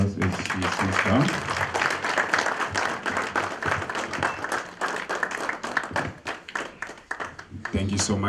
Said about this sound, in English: May we give a hand of applause as she sits down?